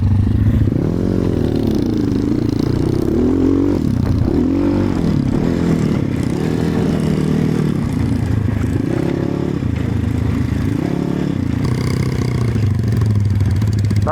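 Enduro motorcycle on a forest trail near Tver, its engine revving loudly and continuously with repeated throttle surges and dips, close by, with no talk.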